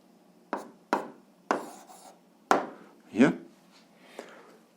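Marker or pen strokes on a board while writing out an algebra answer for an eighth-grade class, a run of short scratchy strokes with a longer squeaky drag, close and fairly quiet, with no talk.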